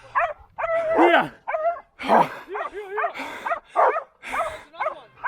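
Hunting dogs, including a Dachshund, barking and yipping in excited bursts during a feral pig hunt, close by, with whimpers between barks and some voices mixed in.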